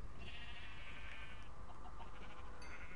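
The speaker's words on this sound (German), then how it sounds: "Ah, hier ist ein weißes Schaf." A white sheep in Minecraft gives a drawn-out bleat at close range over a constant background hiss, then fainter bleating follows.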